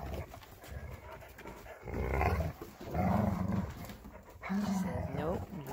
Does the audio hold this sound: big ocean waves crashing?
no